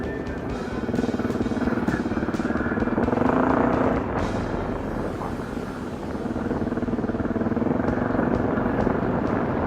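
Kawasaki KLX110 and Suzuki DRZ400 dirt bikes ride a sandy trail, their engines droning steadily and close throughout, swelling and easing with throttle changes.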